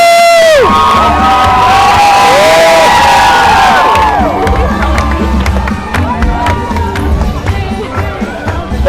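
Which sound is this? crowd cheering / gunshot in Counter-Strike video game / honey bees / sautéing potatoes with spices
crowd cheering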